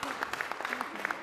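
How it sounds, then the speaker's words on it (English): Brief scattered clapping from a small audience at a company awareness session for an innovation award, light and somewhat distant, lasting only a moment. "did you clap for her?"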